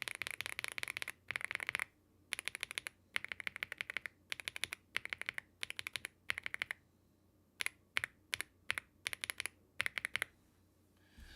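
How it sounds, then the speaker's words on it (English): Typing on a custom mechanical keyboard, a GMK87 budget board fitted with GMK keycaps: crisp, rapid clacking bursts separated by short pauses, close and clear with no voices. "Actually sounds a lot better with GMK keycaps."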